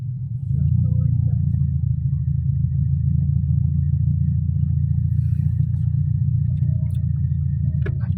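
Cars stuck in a traffic jam on Tanjung Hulu road heading toward Pontianak city, heard as a steady, loud low engine rumble that holds without a break from start to end.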